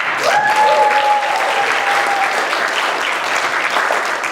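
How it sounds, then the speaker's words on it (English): A round of applause from a church VBS presentation audience, loud and sustained clapping filling the room at an even level throughout. "Let's give them one more round of applause"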